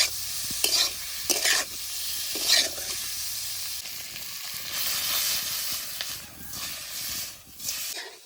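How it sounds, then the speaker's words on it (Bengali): Paneer stirred and fried with spices in a pan, village-style cooking: a steady close sizzle with repeated scraping stirs in bursts, no talking. "পনিরের সঙ্গে ভালো করে নাড়িয়ে চাড়িয়ে ভেজে নেব একটু"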